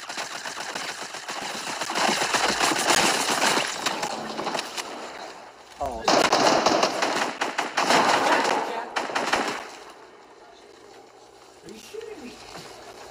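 Rapid bursts of Fortnite game gunfire crackle densely for about ten seconds, easing off near the end with lighter sounds, while a player talks over it.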